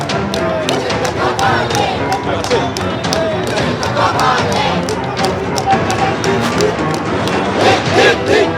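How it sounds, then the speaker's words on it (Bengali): Crowd at a street rally and protest march in Baranagar chanting political slogans, a dense rhythmic mass of voices with claps or beats repeating throughout, steady and close. "তারাও এখানে স্লোগান দিচ্ছেন।"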